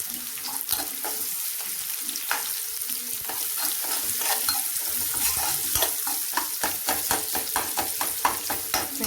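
Onions with a pinch of salt frying in a pan for mutton fry, a steady close sizzle broken by repeated scraping and stirring strokes throughout, with no voices.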